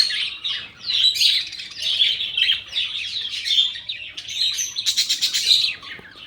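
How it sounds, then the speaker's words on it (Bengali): Caged budgerigars and lovebirds at the Lahiri Baba ashram temple in Bandel chirp and twitter continuously, a dense, bright chatter of overlapping tweets with no voices. "বদ্রি পাখি, লাভবার্ড, নানা রকমের কিন্তু পাখিও এখানে দেখতে পাচ্ছ"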